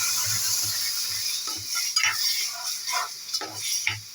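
A ladle stirs a tamarind water mixture in a pot for ulavacharu, soft scraping and light clinks of metal against the pot at an uneven rhythm, over a faint background hiss.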